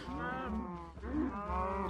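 A cow in a block-building video game gives a couple of drawn-out, low, nasal moos in quick succession, clear and fairly close with nothing else around them.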